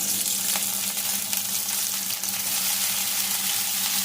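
Hot oil frying in a pan gives a loud, constant hissing sizzle that stays steady and close, with a faint low hum underneath and occasional small crackles.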